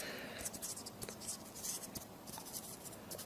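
A pen taps dots onto a recycled paper sack gift tag, making soft, close, quiet ticks and light scratches in an irregular patter.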